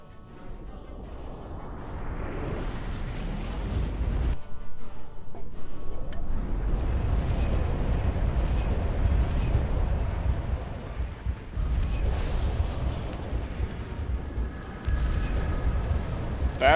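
A house burning down in the Lucius video game: a loud, continuous roar of fire and rumbling crashes fills the scene, swelling and surging with brief drops, with a voice speaking over it now and then.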